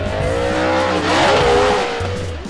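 A Ford Mustang race car with a naturally aspirated engine spins its rear wheel, tires squealing loudly over a steady engine drone that swells and revs for a couple of seconds, close and without talk.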